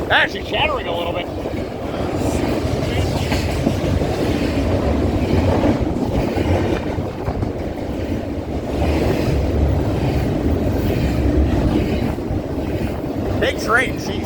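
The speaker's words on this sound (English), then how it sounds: "Big train, jeez." A big freight train rolls past at Colton or Fullerton, a steady broadband rumble with wind buffeting the microphone throughout, while a voice speaks faintly over the noise.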